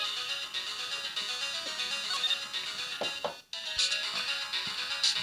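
A telephone rings in the Ace Attorney video game, a repeating electronic ringtone with a bright chirping pattern, played loud and steady with a short break partway through.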